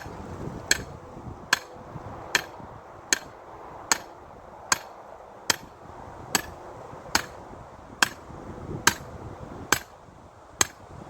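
A sledgehammer drives a metal pipe into garden ground, sharp metallic strikes landing about every second, thirteen evenly spaced blows, close and loud over quiet outdoor background.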